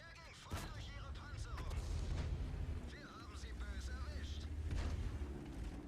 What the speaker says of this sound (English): the gunfire's so fast the crew can barely keep up